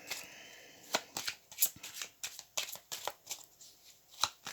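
Oracle cards being gathered up from a spread and shuffled, a run of quick papery riffles and flicks close by, with no talking.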